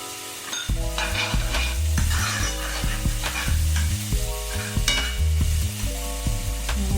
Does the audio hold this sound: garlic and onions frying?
yes